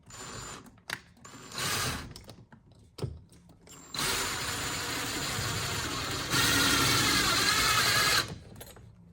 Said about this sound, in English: I'm using an impact driver by Ryobi.